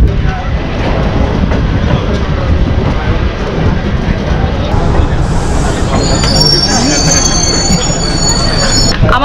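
The Doon Express from Rishikesh to Howrah pulling into Ayodhya Cantt station: a loud, continuous rumble of rolling wheels and carriages, with squealing brakes rising toward the end.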